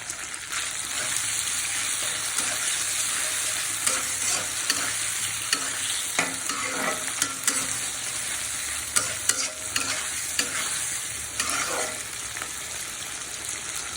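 Quartered tomatoes fry in masala for a Bengali tilapia bhuna, a constant close sizzle broken by repeated clattering stirs of a spoon against the pan, without any talking.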